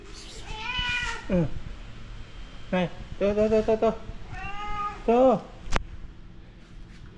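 A cat meows several times up close, with drawn-out, rising and falling cries spaced a second or two apart, while a person talks briefly in between.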